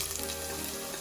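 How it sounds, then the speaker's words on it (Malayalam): Small chopped onions drop into hot coconut oil in a clay pot and fry with a dense, continuous sizzle at close range, with no voices. "വെളിച്ചെണ്ണ നല്ലോണം ചൂടായിട്ട് വന്നിട്ടുണ്ട്. അപ്പോൾ അതിലേക്ക് നമുക്ക് ചെറിയ ഉള്ളി ഇട്ട് കൊടുക്കാം"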